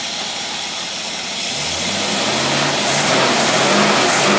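An engine on a Carter carburetor, a unit once used in marine service, runs smoothly and steadily, its even hum growing a little louder partway through, with no speech.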